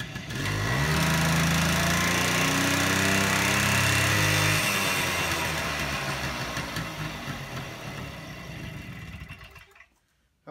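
A Honda Hobbit moped engine idles with a steady, buzzing putter. It is loud and close, runs alone for about ten seconds, then sputters and cuts out near the end.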